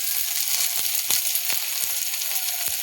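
Garlic paste, salt and tomato masala sizzle in hot oil for an egg curry with methi, a steady close hiss punctuated by several sharp spatula taps and scrapes.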